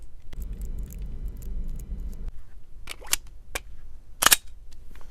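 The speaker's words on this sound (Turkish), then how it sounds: "Silah bir miktar alıştıktan sonra harika atışlar rahatlıkla yapılıyor açıkçası" Several sharp, loud Glock 19 pistol shots ring out at an outdoor range, a few spaced apart, then a cluster near the end, over a low background rumble.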